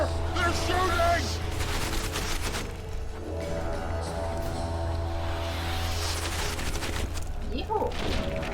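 Enemies shooting in The Witcher 2, a dense fusillade of gunfire bursts and booms running through the whole stretch, loud and busy over a low steady drone, with people talking underneath.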